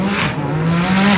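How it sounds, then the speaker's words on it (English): Seven-second hot rod drag cars, a Porsche and an Audi R8, roar down the strip at full throttle, one loud sustained engine note with a rising pitch held for over a second. "So a couple of 7-second hot rods will get us started."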